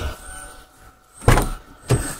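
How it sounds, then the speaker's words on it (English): A car's back door unlocks with a faint whirr and click, then two sharp, close mechanical clunks follow as the latch releases and the door opens. "Let me unlock this back door."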